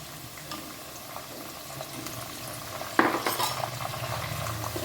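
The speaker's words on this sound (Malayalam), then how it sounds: "ഇത് നമുക്ക് ഒരു രണ്ട് സ്പൂൺ ഇതിലോട്ട് ഒഴിക്കാം" Turmeric and salt water is splashed into banana chips frying in hot oil, giving a sudden loud hiss partway through that settles into steady bubbling and spoon-stirring clatter, with no voices.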